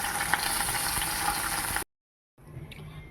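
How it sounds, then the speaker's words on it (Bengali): Large fish fry one at a time in hot oil in a pan, a dense, steady hiss that cuts out abruptly, then returns much fainter. "মাছগুলো একটা একটা করে ভাজতে হচ্ছে বড় বড় মাছ তো যদি ভেঙে যায় তার জন্য একটা একটা করেই ভাজতে"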